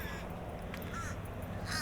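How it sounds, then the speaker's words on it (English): Crows caw repeatedly outdoors on a rainy day, several harsh calls in quick succession at moderate distance over a steady background hiss. "these crows are just going off."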